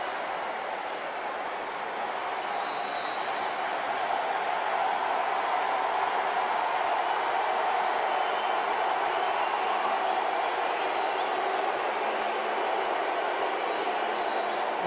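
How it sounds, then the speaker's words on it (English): Broadband roar of a large stadium football crowd, Ghana and Nigeria fans together, a steady sustained wash of voices that swells slightly and holds loud from start to finish with no clear individual words. "Well, listen to the crowd here."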